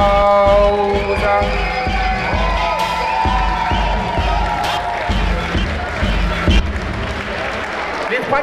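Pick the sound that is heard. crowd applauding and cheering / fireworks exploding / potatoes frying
crowd applauding and cheering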